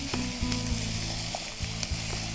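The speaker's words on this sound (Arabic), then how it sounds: "نحركهم كتير منيح" Cumin, paprika and turmeric sizzle in a pan while being stirred, a close, steady frying crackle with a few scraping knocks from the utensil, no talking.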